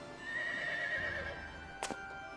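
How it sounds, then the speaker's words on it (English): A horse in the video game Witch on the Holy Night lets out a clear, fairly loud whinny lasting about a second, followed by a short sharp impact, over a quiet background hum. "Oh, it's the horse from Berserk"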